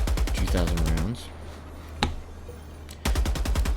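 Heavy machine gun on a vehicle in Helldivers 2 fires rapid loud bursts, a rattling stream for about a second, then a single sharp shot, then another burst at the end.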